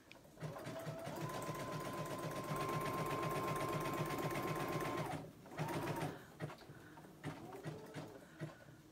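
Close up, a sewing machine runs a long steady burst of zigzag stitching on applique, then slows into shorter stop-and-go runs.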